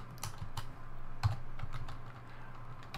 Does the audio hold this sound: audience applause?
no